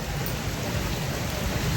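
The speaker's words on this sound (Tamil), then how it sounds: "மழைங்க சரியான மழைங்க" Heavy rain pours down steadily, a dense continuous hiss of falling water that fills the whole stretch, loud and close with no pauses.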